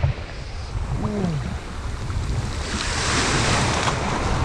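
Waves washing onto a stony beach on the Greek coast, a steady close surf wash that swells slightly toward the end, with wind buffeting the microphone.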